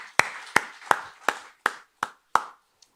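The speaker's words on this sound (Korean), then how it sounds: "함께 박수하겠습니다" A church congregation claps together at a midweek Wednesday service, seven sharp, evenly spaced claps in a steady rhythm, close and clear with no talk.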